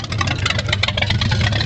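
A 1923 Ford Track Nose Roadster engine warms up, idling loud and close with a steady low rumble and rapid uneven pulsing.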